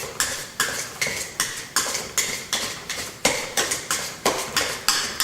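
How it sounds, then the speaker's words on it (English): Egg yolks being mashed with mustard and mayonnaise in a bowl for Easter deviled eggs, a steady rhythm of scraping, clinking utensil strokes against the dish, about two per second, close and moderately loud with no talking. "Now what we will do next is we begin to mash everything together."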